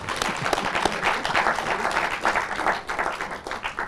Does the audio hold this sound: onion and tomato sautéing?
no